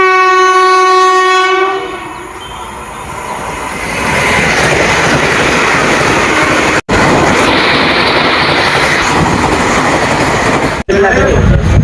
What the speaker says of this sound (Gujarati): ટ્રેન આવે છે, ટ્રેન બતાડું તમને વંદે ભારત.